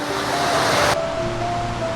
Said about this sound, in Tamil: ஒரு நீர்வீழ்ச்சி அப்படியே வந்து இப்படியே போய் ரோட்டில் போய் கலக்குது